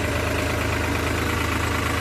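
A New Holland tractor hauling a load of fodder runs its engine steadily, a loud, even low rumble with a regular throb and no voices.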